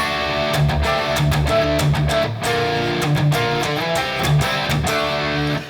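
A loud, distorted electric guitar riff chugs along with palm-muted low notes and crunchy chord stabs, including a D bar chord, in a driving rhythm, played alone without voices.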